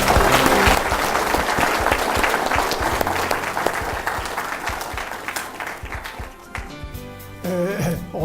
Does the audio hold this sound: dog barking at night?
no